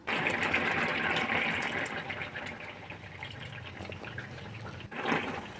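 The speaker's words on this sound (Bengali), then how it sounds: "200 গ্রামের মতো দুধ ফুটিয়ে রেখেছিলাম, ওই দুধটা এবারে দিয়ে দেব।" Boiled milk, about 200 grams, poured into a simmering pot of Bengali dudh shukto with mixed vegetables, a steady close liquid pour and bubbling that eases off, then a brief stir near the end.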